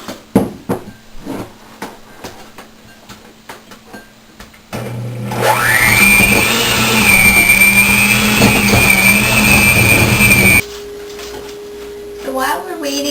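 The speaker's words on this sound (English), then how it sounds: "I want to cream 4 ounces of Philadelphia cream cheese until nice and fluffy." An electric mixer creams 4 ounces of Philadelphia cream cheese until fluffy, a steady loud motor whir running for several seconds after some knocks and clatter, then cutting off to quieter kitchen sounds.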